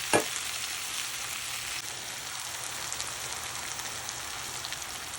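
Onions sauté in a pan for seeni sambal with a steady, bright, rain-like sizzle that holds evenly throughout, heard close, opening with a single clink of a utensil and no talking.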